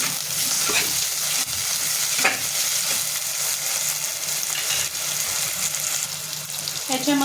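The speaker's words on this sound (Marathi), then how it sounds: "ह्याच्यामध्ये टोमॅटो टाकते ते पण छान आपल्याला परतून घ्यायचं आहे" Tomatoes cook in a pan for a padwal (snake gourd) bhaji, making a continuous close sizzle. A few scraping stirs break through the sizzle, and a clatter comes near the end. No voices are heard.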